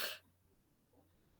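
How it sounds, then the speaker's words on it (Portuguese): A single short cough right at the start, close and fairly loud, followed by quiet room tone. "Hoje a tosse está brava"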